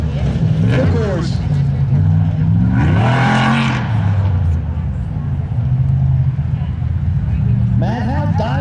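An Ultra4 off-road race car in the 4500 Rubicon Express modified class runs a wooded course at Shamokin, Pennsylvania, its engine revving up and down in several surges under continuous commentary from an announcer.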